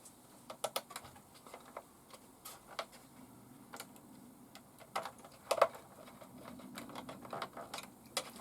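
Tiny screws are driven by hand into a 1/6 scale ROCHobby Willys Jeep model, producing faint, close, irregular ticking clicks in short bursts over a quiet background.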